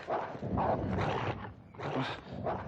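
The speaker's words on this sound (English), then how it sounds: "you need to control that dog" A dog snarls and growls in several loud, rough bursts close by, with short gaps between them and no talking over it.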